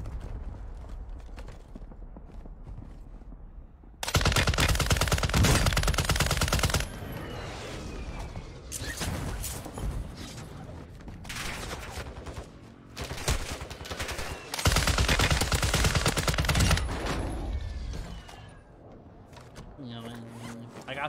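Gunfire in a video game rattles out in loud, rapid bursts, with two heavy volleys and lighter shots between them, while several voices talk over the action.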